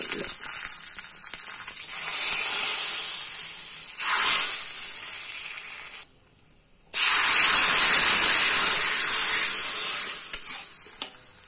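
Loud hissing sizzle as hot oil tempering with popped mustard seeds is poured into papaya theeyal curry, swelling and fading, with a brief silent gap before the crackling resumes steadily.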